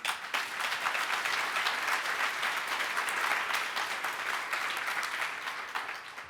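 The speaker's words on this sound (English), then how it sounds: "and I think that deserves an applause." An audience at a women's foundation 40th anniversary celebration claps, a full, steady wash of applause that holds for several seconds before easing off slightly.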